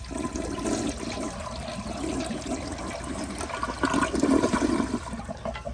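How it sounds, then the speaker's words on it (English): A 1991 Kilgore Aladdin toilet mounted on a flush tower flushing, a close rushing swirl of water that surges in waves and then trails off toward the end. "here is another flush"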